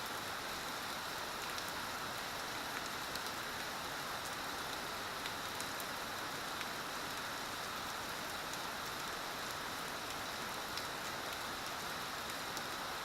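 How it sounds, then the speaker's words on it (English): Heavy rain pouring steadily during a flood, a dense, constant hiss of drops on surfaces with no pauses, fairly distant and even in level. "this rain just needs to stop"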